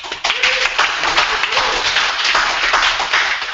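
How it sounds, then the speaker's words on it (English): A lively round of applause from a student audience at the University of Essex, dense and sustained clapping that stays loud for a few seconds with no voices over it. "Round of applause."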